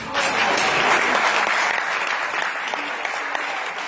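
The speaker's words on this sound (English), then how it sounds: "let's give him a round of applause" A hall audience at LPU applauds the outgoing Central Student Government president after his State of the University Address, a loud, sustained roar of clapping that stays dense throughout and fades slightly toward the end.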